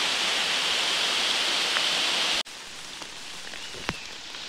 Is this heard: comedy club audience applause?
no